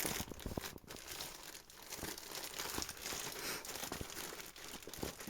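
Paper wrapping from delivered groceries crinkles and crumples steadily up close, with repeated rustling and sharp crackles throughout and no talking.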